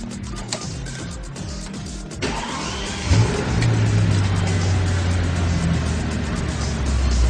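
A Bentley Continental GT replica is started with a push button: a brief crank is followed by the engine catching, then a loud, close, steady idle hum that carries on to the end.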